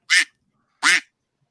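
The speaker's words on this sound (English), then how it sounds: "Quack, quack, quack, quack, Mr. Duckworth" Two short, raspy duck quacks, loud and close, sound in quick succession with silence between them, in a snippet from the Mighty Ducks series.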